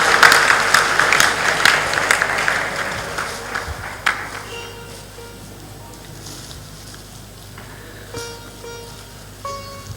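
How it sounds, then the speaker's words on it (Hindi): Applause from an audience at a spiritual discourse, a burst of clapping that is strongest at the start and thins out over several seconds, with scattered claps and a low background hum. "जोरदार ताली बजा दो।"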